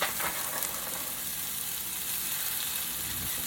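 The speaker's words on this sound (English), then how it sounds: "we're going to go ahead and drop our patties on in" Seasoned hamburger patties fry in oil in a pan, giving a steady, close sizzle with crackling pops that keeps going throughout without talk.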